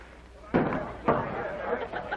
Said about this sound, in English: They're breaking down the back door.